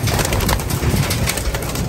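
Racing pigeons coo in a dense chorus at close range during a derby release, soft throaty calls overlapping continuously over a busy background rustle.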